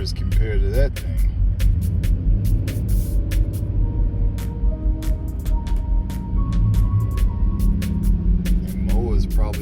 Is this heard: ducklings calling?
no